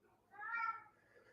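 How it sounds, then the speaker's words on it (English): A pet cat named Baby gives a single drawn-out meow, rising and falling like a greeting, faint and close in a quiet room. "there's baby again. She's got that distinct meow. It does sound like she's saying hello."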